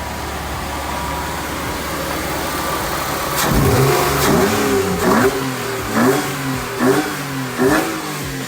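A BMW E30 with a swapped-in M52 engine idles loudly, then revs up several times in rising bursts, each roar climbing and falling back, close and unaccompanied by voices.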